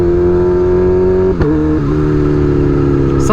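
A Kawasaki Ninja H2 motorcycle engine drones steadily while riding, a loud, close, continuous hum with a brief dip in revs around the middle before settling back to a constant pitch.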